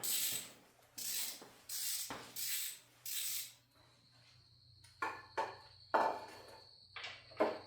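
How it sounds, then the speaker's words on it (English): A ratchet wrench loosens bolts joining a Camaro engine and transmission: five even bursts of rapid clicking, then a thin whine and shorter irregular clicks and metallic scrapes, close and fairly quiet. "We're going to go ahead and get these bolts out."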